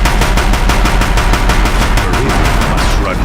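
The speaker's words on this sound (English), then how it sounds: "If the Deathbringers keep firing" Deathbringer machines in the video game Horizon Zero Dawn firing their guns, a loud rapid burst of rhythmic automatic fire, steady for several seconds, with heavy low rumble beneath.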